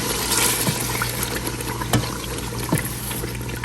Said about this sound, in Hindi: अब हम इसमें शामिल कर देंगे अपना दही